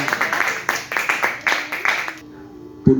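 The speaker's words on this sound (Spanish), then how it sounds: "Dale un aplauso fuerte." Church congregation clapping in a fast, uneven patter for about two seconds, fairly close and loud, then stopping abruptly into a near-silent room.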